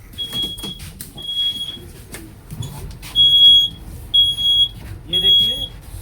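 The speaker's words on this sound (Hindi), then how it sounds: "ये देखिए 16 सेकेंड के बाद ये ऑडियो विजुअल अलार्म बजना शुरू हो गया है" An audio-visual fire alarm, triggered by a power failure after the mains breaker is switched off, sounds in repeated high-pitched electronic beeps in short bursts, while a person talks nearby.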